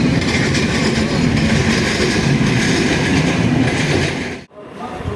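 A train rumbles steadily past close by at the Birampur rail crossing, with rhythmic clattering of wheels on track, then the noise cuts off abruptly near the end.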